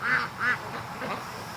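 Two quick quacks from free-range ducks on a warm day, fairly near and clear, followed by softer fading calls over quiet outdoor background.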